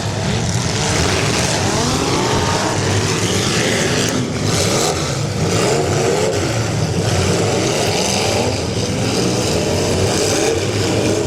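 Demolition derby cars at a 2011 event roar with loud, continuous engine revving and rumble, one car struggling to shift into reverse amid the pack of stacked vehicles; no distinct crash impacts stand out over the steady din.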